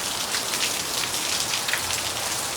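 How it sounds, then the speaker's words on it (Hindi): Heavy rain drums on a house's metal roof, a dense, continuous hiss of countless droplets striking the sheet metal at close range, with no voices. "बारिश रुकने का मतलब नहीं अभी, बाकी यहाँ से पानी फिर से तगड़े वाला आना शुरू हो गया।"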